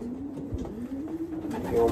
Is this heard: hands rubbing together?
no